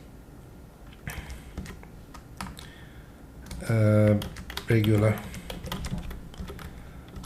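Computer keyboard typing while filling in an answer for a family medicine exam, soft clicks scattered through the clip with a voice speaking over them and a louder patch of sound in the middle.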